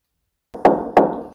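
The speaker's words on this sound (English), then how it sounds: "I just heard knocking." Two sharp knocks, likely on a door, about a third of a second apart, each ringing briefly after the hit, loud and close, following a moment of silence.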